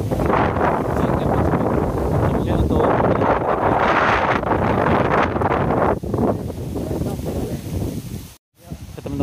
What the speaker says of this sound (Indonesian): di sini anginnya lumayan cukup kencang ya, jadi suara kita tidak terdengar